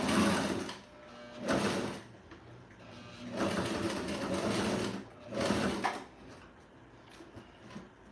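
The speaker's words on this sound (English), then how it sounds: "So I'm sewing up the second pillow." Sewing machine stitching a cozy bed pillow at home, running in four bursts of roughly a second each with pauses between, moderately close and steady, with no talking.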